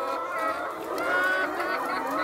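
Aged layer hens, about 100 weeks old and losing neck feathers, cluck and murmur together on a farm in a steady, dense chorus of overlapping bird calls, fairly close, with no talking.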